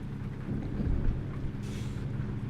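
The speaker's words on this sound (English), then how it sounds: "Oh, there's lightning." Thunder from a lightning storm in the American Truck Simulator video game rolls as a deep, continuous low rumble under a soft wash of rain, with no talking.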